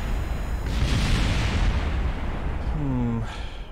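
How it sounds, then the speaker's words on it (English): A rocket explodes in a space program video game with a loud, sustained rumbling boom, followed by a brief falling whistle-like tone near the end. "I saw the explosion."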